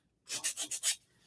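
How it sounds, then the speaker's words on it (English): Craft pieces have their edges sanded with a sander in five quick, rhythmic rasping strokes, close and fairly loud, with no talking. "if you have some of these pieces that have like the little edge, you can use your sander"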